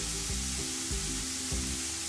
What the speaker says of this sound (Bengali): পেঁয়াজ রসুনটাকে আমি ভেজে নেব